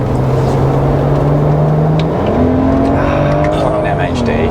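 BMW E90 335i with the twin-turbo N54 engine pulls hard under full throttle, a loud droning engine note climbing steadily in pitch with a quick gear change midway, heard from inside the car.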